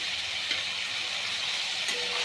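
Tomato and ginger paste sizzles steadily in a hot pan with light stirring scrapes, a continuous close frying hiss with no voices.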